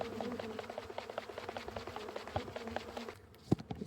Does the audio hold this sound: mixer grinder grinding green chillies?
no